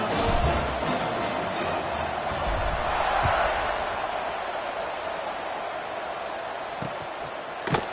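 Football stadium crowd at kickoff in the College Football 26 video game, a broad, steady roar of many voices swelling slightly midway, continuous and distant-sounding, with occasional thuds.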